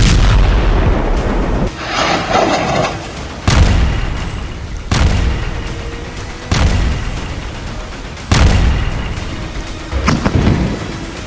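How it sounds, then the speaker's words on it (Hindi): Heavy bomb blasts from Israeli air strikes hit buildings in Gaza, several loud booming explosions about every one to two seconds, each with a long rumbling tail. "इजरायल के तूफानी हवाई हमलों में बमों के धमाके ऐसे इमारतों को उड़ा रहे हैं"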